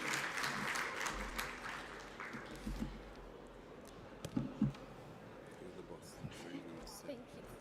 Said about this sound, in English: let's give them a round of applause as they walk on stage